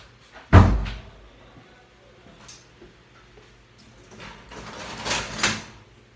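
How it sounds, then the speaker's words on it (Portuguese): A door pulled shut in a noisy room, making one loud thud-like bang near the start, followed by quieter shuffling and rustling handling sounds with no talking. "Só um minutinho que eu vou fechar a porta."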